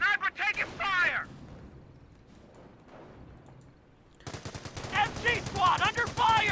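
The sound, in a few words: machine gun fire in video game Company of Heroes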